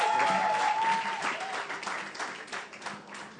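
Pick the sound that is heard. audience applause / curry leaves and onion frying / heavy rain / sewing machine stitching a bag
audience applause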